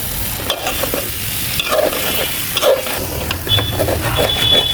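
Vegetables stirred through hot spiced oil in a pan while frying, for a rohu fish curry with flat beans and potatoes: a continuous sizzle with irregular scraping and clinking strokes, close and moderately loud, with no speech.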